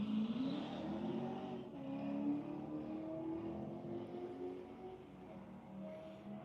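A race car driven by Ryan Whalen at Putnam Park, its engine note climbing and shifting through gears at a moderate distance, rising and falling in pitch as it runs past.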